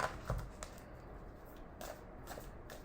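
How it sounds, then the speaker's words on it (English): A large tarot deck being shuffled, a quiet continuous riffle of sliding, flapping cards with a few sharper slaps, close by and alone. "I'm still shuffling, so whatever is meant to come out will come out."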